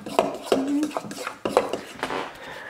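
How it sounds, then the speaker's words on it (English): Pancake batter stirred in a bowl with a utensil, a series of sharp clinks and scrapes against the bowl sides in an irregular rhythm, close and fairly loud, with no talk. "Stir it up."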